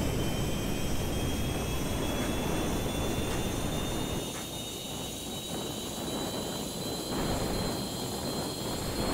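Jet engines spooling up as a player-built jet accelerates toward top speed in the video game Homebrew Vehicle Sandbox, a steady, loud broadband roar with rising high whine, dipping slightly midway then surging again, no talk.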